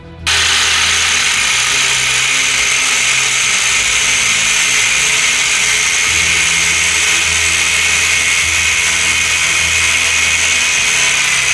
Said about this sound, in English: we were using a vice grip and a grinder to grind these bolts down